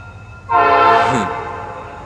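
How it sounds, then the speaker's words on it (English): A train passes and sounds a single loud horn blast that swells and holds for more than a second, then fades under steady rail rumble. "just like that train is coming"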